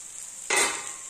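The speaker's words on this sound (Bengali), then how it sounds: "কড়াইতে হচ্ছে নিম পাতা বেগুন ভাজা।" Brinjal and neem leaves fry in a wok under a faint steady sizzle, then a single stir or scrape halfway through brings a brief surge of louder crackling that slowly eases.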